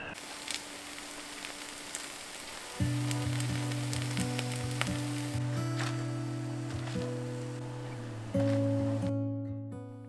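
Appe batter fries in ghee in an appe pan, a steady close sizzle with a low hum that swells partway through, plus a few light taps as the pieces are turned, no voices.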